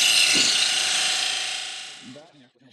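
A thin-kerf parting tool cuts deep into wood spinning on a lathe while a lidded box is turned, making a bright, close hiss that fades over about two seconds before a voice briefly speaks.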